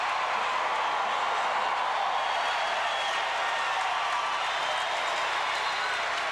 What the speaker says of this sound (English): Here comes the Nebraska crowd